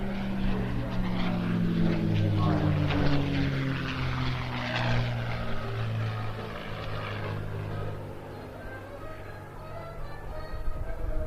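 A propeller warbird loaned to the Rolls-Royce Heritage Flight flies an aerobatic display at the Bournemouth Air Festival, its engine droning loud and steady with a shifting pitch as it loops and rolls, while a commentator talks over it.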